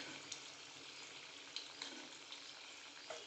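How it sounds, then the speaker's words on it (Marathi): Vegetable cutlets fry on a low flame with a soft, constant sizzle and occasional tiny pops of oil, close by and without talk. "मंद आचेवरच करायचे आपल्याला. पहा ते आतपर्यंत ते फ्राय झाले पाहिजेत."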